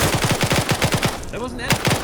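Rapid bursts of gunfire from a multiplayer military shooter match pitting British against German sides, a dozen sharp loud cracks in quick succession, a short pause, then more shots.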